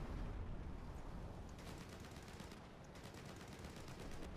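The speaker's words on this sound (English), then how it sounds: "There we go, both guns firing off." An M41A1 Walker Bulldog tank in War Thunder fires both of its guns, a continuous fast rattle of machine-gun bursts over a low engine rumble, quite faint and without talk.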